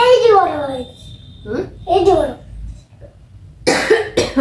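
A child with a lingering cold coughs several times, harsh bursts near the end, mixed with the child's own speech and throat sounds close to the microphone.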